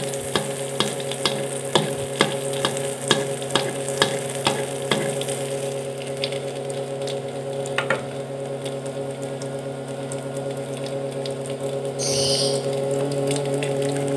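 Kue cucur brown sugar cakes sizzle steadily in hot oil as oil is spooned over their centres. Quick splashing clicks come early, then an even frying hiss continues, with faint bird chirps in the background.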